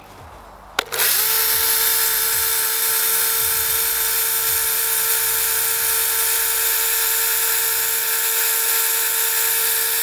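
A Revolt BCS 280 mini battery chainsaw powered by a 21700 battery starts with a click and then runs at a steady high-pitched whine, loud and close, droning evenly for about nine seconds with no talk.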